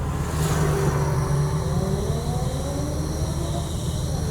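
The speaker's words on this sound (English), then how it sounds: "A few cheeky revs and a bit of sound." Japanese performance cars leaving a car show, engines revving in short bursts close by over a steady rumble of idling motors and crowd noise.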